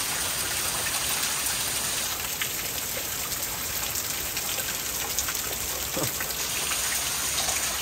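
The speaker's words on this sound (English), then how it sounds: "Rain's coming." Steady rain falling outdoors, a continuous close hiss of drops with scattered patters on surfaces, running evenly throughout with no talking.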